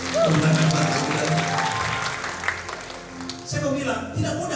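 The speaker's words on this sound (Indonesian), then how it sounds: "Tepuk tangan buat Tuhan." Church congregation applauding during a worship service, steady close clapping from many hands that carries through the whole moment, with some voices mixed in beneath.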